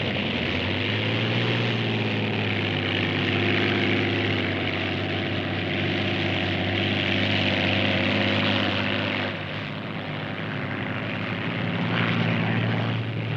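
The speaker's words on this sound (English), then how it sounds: "Borgerson flashes past again on the end of his second lap" A 1969 racing hydroplane, the Notre Dame, powered by a highly tuned fighter plane engine, roars past as a loud, sustained droning engine note that dips briefly and then returns.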